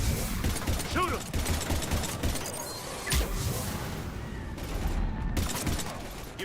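Rapid gunfire from a Mass Effect 3 firefight against husks on insanity difficulty, a dense continuous fusillade with mechanical clatter and an impact crash, loud and near, with voices shouting over it.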